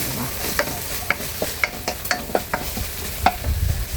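Squash flowers sautéed with shrimp paste in a pan, a low sizzle running under repeated close scrapes and taps of a spatula against the pan at an uneven pace.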